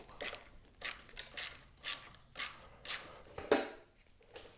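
A ratchet wrench loosens a headlight bracket bolt on a Kawasaki Z125 motorcycle, giving about seven sharp, evenly spaced bursts of clicking with short quiet gaps between them, close and alone.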